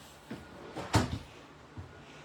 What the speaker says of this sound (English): And a little big drawer down here.